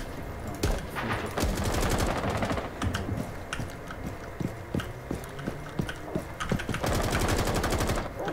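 Rapid automatic gunfire in Apex Legends, hip-fired during a drop shot, comes in dense loud bursts with sharp repeated cracks, broken by short gaps and ending in another fast volley, with no talking.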